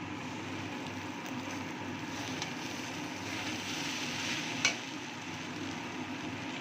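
Rice being fried and stirred in a pan for egg pulao, a steady soft sizzle with scraping stir noises running throughout and one brief sharper clink near the end.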